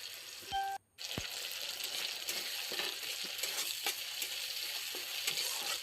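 A paste of mustard, sesame, ginger and green chilli frying with tomatoes crackles and sizzles steadily, with a few scraping stirs. Just before the first second, a brief clatter is followed by a moment of silence.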